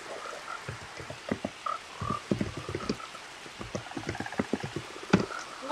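Cute tree-frog-like frogs from DragN's Livestock Overhaul mod for Minecraft croak in a dense, overlapping chorus of short, rhythmic chirps and clucks, fairly close and steady throughout with no talking.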